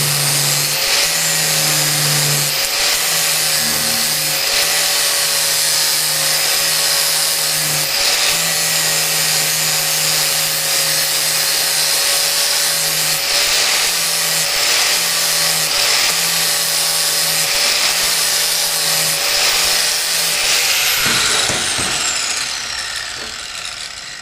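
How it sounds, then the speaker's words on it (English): A grinder fitted with a new flat disc grinds steadily and loudly on a Harley sprocket guard tab for over twenty seconds, its pitch dipping slightly with pressure before it spins down at the end. "I put a brand new flat disc on my grinder here"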